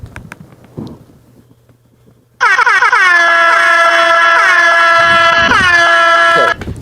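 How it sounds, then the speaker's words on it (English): A loud air horn blasts in rapid repeated stutters, made on old digital editing software, preceded by a couple of brief knocks and a quiet stretch. "they had some kind of way to make the air horn go over and over"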